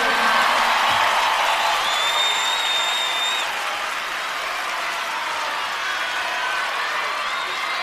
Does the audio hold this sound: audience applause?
yes